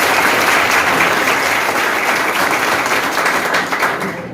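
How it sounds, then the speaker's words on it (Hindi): A classroom audience applauds their teacher with loud, dense clapping that holds steady, then tapers off slightly near the end. "ताली बजाइए एक बार सर के लिए।"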